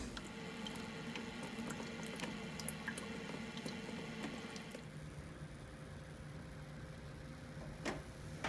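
Water pours into an onion seed tray with a steady splashing trickle and scattered drips, then eases to a quieter flow near the end.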